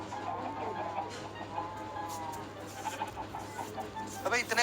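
Chickens in Minecraft cluck in a busy, overlapping chatter against a low steady hum, growing denser toward the end.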